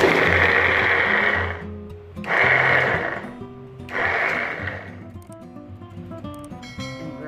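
Bird chop being processed in a food grinder, three loud grinding bursts of about two seconds each with short pauses between, then quieter low rumbling and clatter at the end.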